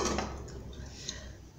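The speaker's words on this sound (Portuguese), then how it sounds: "Agora eu vou tampar a panela." A few faint metallic clinks and taps of a lid settling onto a pot of chicken noodle soup, quiet and close, with a soft rattle near the end.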